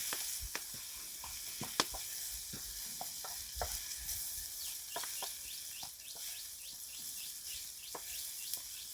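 Moringa egg bhurji with tomato fries in a pan outdoors in a farm garden, a quiet steady sizzle broken by intermittent spatula scrapes and stirs, with faint birdsong chirping in the background.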